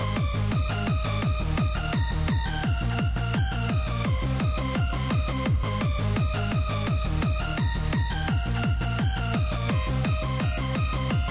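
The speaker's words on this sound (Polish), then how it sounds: "to jest właśnie w Happy Hardcore, czyli tempo 170." Happy hardcore melody made in FL Studio at 170 BPM, playing loud and continuous with a fast, steady pounding kick and bright repeating synth lines, with no voices.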